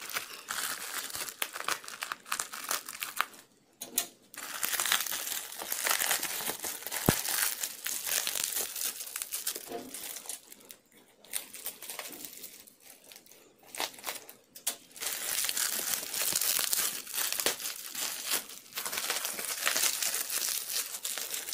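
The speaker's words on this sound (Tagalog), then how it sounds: "Sarap ng tunog ng bubble wrap sa tenga" Close, continuous crinkling and crackling of bubble wrap being handled, with irregular rustles and pops throughout.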